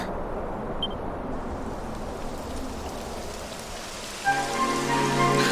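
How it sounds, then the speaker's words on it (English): Rain begins falling in the Dragon Quest XI S video game, a dense, steady hiss of drops on the ground. A tonal, music-like layer joins near the end. "It would have to go and start raining, wouldn't it?"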